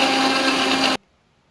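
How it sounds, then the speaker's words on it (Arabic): A kitchen blender whirs loudly while blending lemon, mint, sugar and water into juice, a dense steady roar close up that cuts off abruptly after about a second into silence. "ونضرب في الخلاط بتاعنا"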